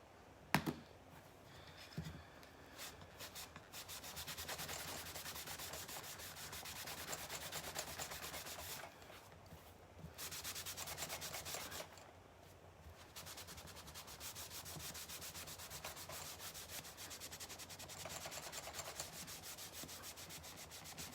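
Wax rubbed by hand onto a wood surface makes steady, close scrubbing strokes. They run in long stretches, broken by a couple of brief pauses.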